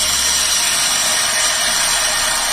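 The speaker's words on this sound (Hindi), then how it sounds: "जब गाड़ी को स्टार्ट करते हैं तो बहुत ज़्यादा आवाज़ आती है।" A noisy Suzuki Swift car engine runs loud and close, with a harsh, steady mechanical clatter and a whining drone holding constant throughout, and no talking.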